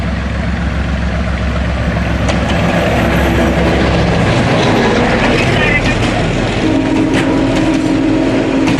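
At Comilla railway station a train rumbles past close by with steady, loud engine drone and wheel noise, continuous throughout with station ambience mixed in.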